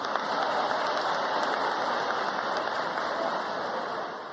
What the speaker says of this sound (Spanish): Pido un aplauso por ustedes.